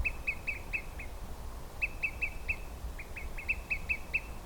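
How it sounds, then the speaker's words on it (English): Several bird calls repeat in short, clear bursts, likely olive-sided flycatchers, heard at a remote lake in Maine. The groups of whistled notes come at a moderate distance over a low, steady rumble of ambient noise, with no voices. "Best bird of a rather quiet morning, a family of olive-sided flycatchers."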